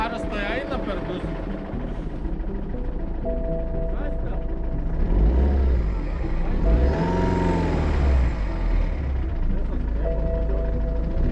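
An English-made car's engine, one that burns through oil, revs up in rising and falling surges that peak midway, loud and close, while people talk over it.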